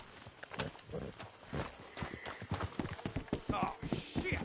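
Horses' hooves clop in a rapid irregular patter in a game scene, close and continuous, while people talk over the hoofbeats.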